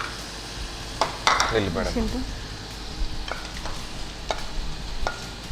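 A pan of frying food for a chicken dish crackles and sizzles while someone stirs it, with sharp clinks from a utensil against the pan and a brief stretch of a person talking over the cooking.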